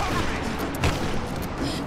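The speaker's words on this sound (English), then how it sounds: "Stop shooting at me!" Enemy gunfire in the video game Rise of the Tomb Raider, a dense, continuous fusillade of crackling shots with a heavier boom near the middle, loud and close with no clear breaks.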